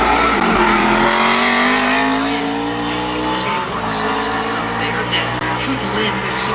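NASCAR Cup Series race car at full throttle during qualifying at ISM Raceway, a loud, sustained engine roar with a rising pitch, with a commentator talking over it.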